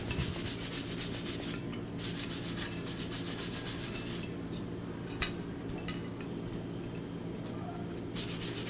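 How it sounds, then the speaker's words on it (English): A wire brush scrubs a freshly forged blacksmith's metal piece: steady, close raspy rubbing strokes in repeated bursts, with a couple of brief metallic knocks in between. "finally, clean it with a wire brush and wax it"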